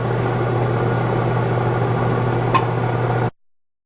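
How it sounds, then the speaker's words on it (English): A microwave oven's steady electric hum with a low drone runs continuously, broken by one brief tick near the end, then cuts off abruptly to silence. "So I just went in with the microwave."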